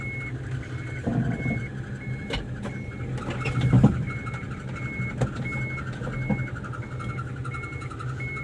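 A modified automatic 4x2 pickup truck engine turns over and settles into a steady idle, with a rise in rumble as it catches and a faint repeating electronic tone above the engine.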